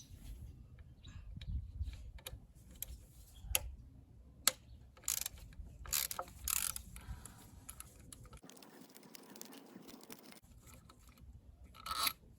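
Ratchet removing Torx T30 bolts from the coil pack of a 2014 Opel Corsa D 1.4, close irregular clicks and ratcheting ticks in short bursts with brief quiet gaps and light handling noises.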